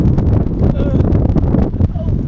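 Strong outdoor wind buffets the microphone in a loud, continuous rumble, with voices talking faintly underneath.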